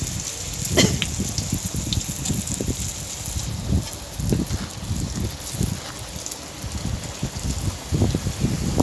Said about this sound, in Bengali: পাল্টে নিয়ে এই সসপ্যানে আমি ভাজছি আর প্রথম কচুরিটাই বেশ ভালো মতো ফুলছে